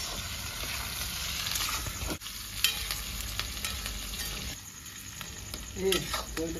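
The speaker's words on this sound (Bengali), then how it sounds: "পেঁয়াজগুলো ভাজা হয়ে গেছে।" Chopped onions frying in a pan for a Punjabi chicken gravy, with a steady close sizzle and occasional stirring scrapes, continuous throughout with no talk.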